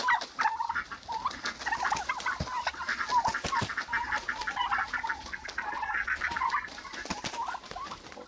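A farmyard flock of turkeys and hens calls busily, with overlapping clucks, gobbles and squawks close by in a constant chattering stream.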